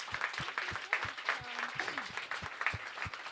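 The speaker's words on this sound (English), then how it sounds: "I think all 17 groups deserve a big round of applause." Audience at a coding bootcamp pitch day claps for the presenting groups, individual hand claps distinct and somewhat sparse, with a voice briefly heard underneath.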